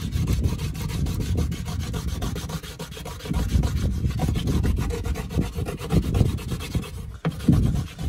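Propolis rubbed by hand onto the inside walls of a wooden bait hive box for catching a bee swarm: a steady, close, continuous rasping scrub with no speech.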